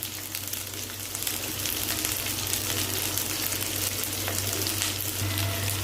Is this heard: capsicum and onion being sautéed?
yes